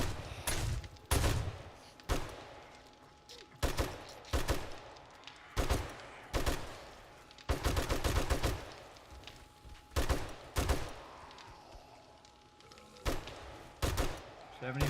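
Gunfire mowing down zombies in 7 Days to Die, repeated loud close bursts of automatic shots in uneven volleys with short pauses between, over a faint steady background hum.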